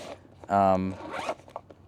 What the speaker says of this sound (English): some sort of really thin, super durable plastic with a little zipper on it